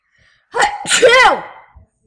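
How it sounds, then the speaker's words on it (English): A single sharp sneeze bursts out after a quick inhale, loud and close, followed by a brief trailing breath. "You sneeze a lot, and I just hate it."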